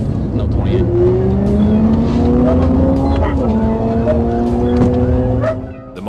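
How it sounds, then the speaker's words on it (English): A motorcycle fleeing a police traffic stop accelerates hard, its engine pitch climbing through a gear change, loud and close, with a voice over it. "It's a motorcycle."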